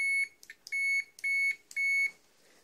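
A Uni-T UT50A multimeter in continuity mode gives a series of clear electronic beeps: four sustained tones with short chirps between them, close and fairly quiet, with no talk.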